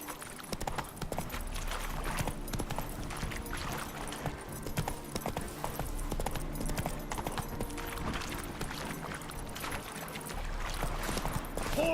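Hooves of the horse Roach clip-clop in a steady galloping rhythm in The Witcher 3, loud and continuous under a dense game soundscape with low rumbling music and ambience.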